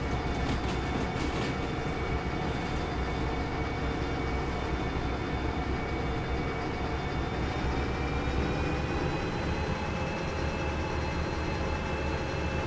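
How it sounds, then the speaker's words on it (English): A train in the Derail Valley railway simulation rolls through a junction with a constant heavy rumble and wheel noise, overlaid by a thin high squeal and some rattling near the start. "we're just going to make sure the back of the train, which is still going through the junction, we're under 40"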